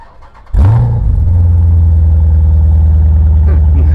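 A 2016 Jeep SRT's large engine cranks and fires up after a brief quiet moment, then settles into a loud, deep, steady idle.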